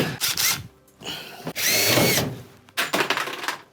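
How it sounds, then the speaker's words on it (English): Power drill driving a screw into a ceiling, with short whirring bursts, a longer sustained run of the motor in the middle, then more stuttering bursts, close and fairly loud. "screw this bad boy into the ceiling"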